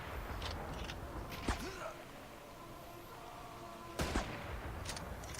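A few sharp, scattered gunshots pop from The Last Sniper VR game, one around midway and a cluster later. They ring out against a low, busy background with faint voice-like sounds.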